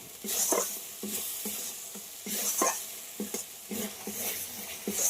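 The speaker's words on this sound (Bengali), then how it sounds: "দু মিনিট মতো মশলাটা আমি খুব ভালো করে কষিয়ে নিয়েছি" Spice masala with salt and turmeric stir-fries in a pan, giving a soft sizzle with repeated bursts of scraping stirs in an uneven rhythm, close but fairly quiet and without speech.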